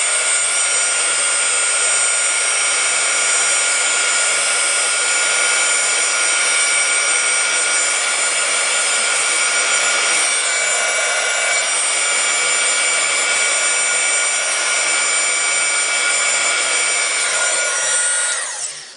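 A dryer blows continuously and loudly on a repurposed steampunk book cover craft project, a steady close whirring hiss that runs for nearly the whole stretch before cutting off at the end.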